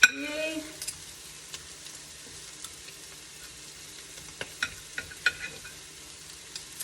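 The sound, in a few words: stirring food frying in a pan on low heat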